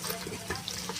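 Susni greens being rinsed under a running tap at a kitchen sink, a soft, steady stream of splashing water, faint and brief, with no voices.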